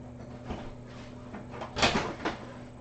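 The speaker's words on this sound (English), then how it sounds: "Going to crack the back door." A kitchen back door is cracked open, giving a few soft thumps and a louder latch-and-swing rush near the end, close by against a steady low hum.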